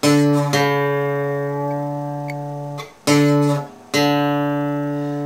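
Two guitar notes are plucked together and ring, then struck again twice more, their pitches beating against each other in a sour, dissonant way.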